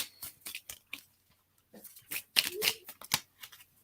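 Oracle cards being shuffled and drawn from a deck, giving a few soft riffling and snapping bursts, loudest near the middle, with quiet gaps between.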